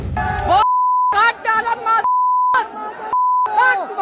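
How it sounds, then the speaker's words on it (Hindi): Loud steady censor beep tone at about 1 kHz repeatedly blanking out abusive speech, three long bleeps alternating with short bursts of talk. "बीप लगानी पड़ रही है"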